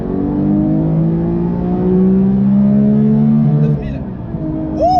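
A Porsche GT3 Touring's naturally aspirated engine revs up from 4000 rpm, a loud close mechanical wail climbing steadily in pitch for several seconds before easing off.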